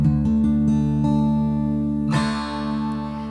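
Sustained piano chords built from roots and fifths, ringing with long decays, with a fresh chord struck about two-thirds through and blending into the fading previous one, played alone without talk.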